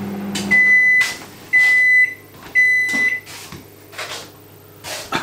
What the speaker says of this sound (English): Now I'm going to pop the pud in the microwave for 8 minutes